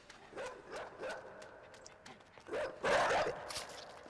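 A dog in the video game Inside gives several short yips and whimpering barks spaced over a few seconds, moderately near, the last bursts louder.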